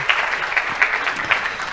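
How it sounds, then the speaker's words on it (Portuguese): Applause from the audience at a panel event on green cities, a short burst of many clapping hands, moderately loud and fairly even. "recebe mais uma salva de palmas"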